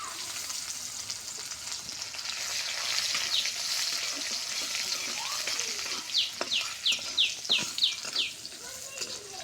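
Chopped onion and garlic sizzle steadily in hot oil in a home kitchen, a continuous crackling hiss with a brief series of faint, quick bird chirps in the background.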